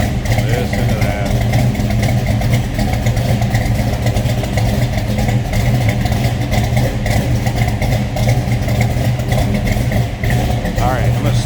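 A 1970 Dodge Dart Swinger two-door hardtop idling, heard from behind the car near the exhaust: a steady, loud, even engine rumble that holds throughout.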